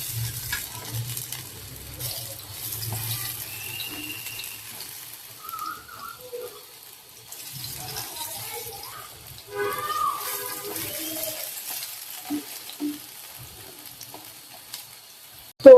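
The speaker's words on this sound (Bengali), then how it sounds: "পেঁয়াজ এগুলাকে এখন এই যে লাল লাল করে আমি একটু ভেজে নিব।" Onions fry in a pan until reddened, with a low, steady sizzle and scattered stirring scrapes and clinks close by, plus occasional faint background voices.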